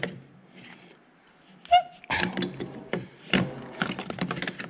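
Ratchet wrench clicking as it works loose a tight filter on a John Deere 35G mini excavator, with a pry bar holding the bent bracket; a quiet start, then a sharp tick and bursts of ratcheting clicks and metal clatter, close and fairly loud.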